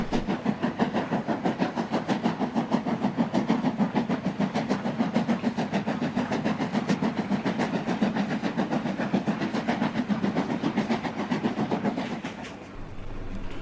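A WD 2-8-0 steam locomotive working hard, with fast, steady rhythmic chuffing and mechanical clatter that stays loud and close throughout before easing slightly near the end.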